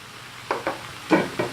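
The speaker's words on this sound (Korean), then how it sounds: "자 이렇게 좀 볶아질 동안" Fried rice is being stir-fried in a hot pan, with four quick scraping, sizzling bursts from the stirring that come close and distinct over a quiet background.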